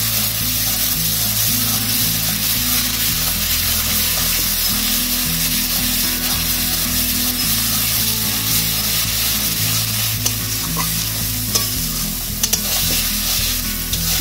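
Masala spices sizzle and fry steadily in a pan over a dry-wood fire while being stirred for a deshi chicken curry, a loud continuous crackle with scraping stirs and a low rumbling hum underneath.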